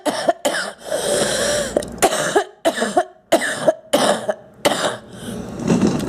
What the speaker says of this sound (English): I'm coughing up mucus